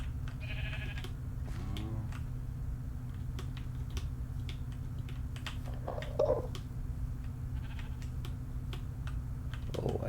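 Sheep bleating in the Minecraft Feed The Beast Infinity Evolved modpack, a short game bleat early on and another around the middle, over a steady low drone and scattered clicks like keyboard typing.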